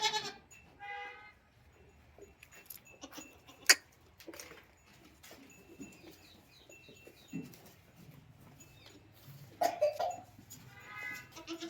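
Goats on a goat farm feed on crushed maize, giving a few scattered bleats and faint shuffling and munching noises in a quiet setting, with occasional distant bird chirps.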